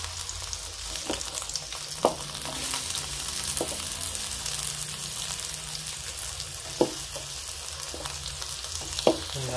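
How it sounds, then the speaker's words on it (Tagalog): Garlic and ginger sauté in oil for a spicy Filipino coconut vegetable dish, a steady soft sizzle with a few sharp utensil knocks against the pan, close and without voices. "Kapulahin natin yung bawang"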